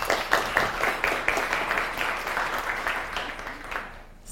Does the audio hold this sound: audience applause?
yes